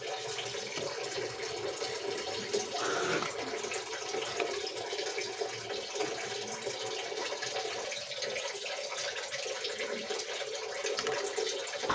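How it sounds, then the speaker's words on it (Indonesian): The last of seven layers of Surabaya layered pudding mixture being poured into a mold, a steady, soft liquid rush that lasts throughout with a slight splash near the start. "kita tuang lapisan yang terakhir atau lapisan ketujuh"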